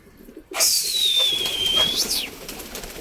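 A single drawn-out bird call from a pigeon, a clear rising-then-falling whistle-like note lasting over a second, close and fairly loud against quiet outdoor background.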